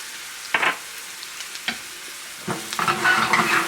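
Paprika tossed into a pan of sautéing garlic and potatoes for patatas bravas, giving a few short bursts of stirring and scraping followed by a rising, steady sizzle of frying toward the end.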